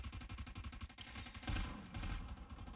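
Rapid video-game gunfire in a clan team shooter match, bursts of fast repeating shots with heavier blasts layered in, loud and close, no talk.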